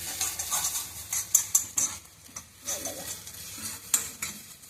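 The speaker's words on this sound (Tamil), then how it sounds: "இப்படி ஊற்றிட்டு இப்படியே ஹைலே வச்சு இப்படியே ஸ்கிராம்பிள் பண்ண வைக்கணும்." Scrambled eggs are stirred in a pan over high heat, a utensil scraping and clinking against the metal in irregular taps over a soft sizzle, close and fairly quiet with no talk.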